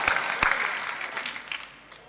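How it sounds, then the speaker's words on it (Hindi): At a Hindi kavi sammelan poetry gathering, the crowd claps on request, a couple of sharp near claps opening a brief burst of applause that thins out within two seconds. "एक बार जोरदार ताली बजा दो यार।"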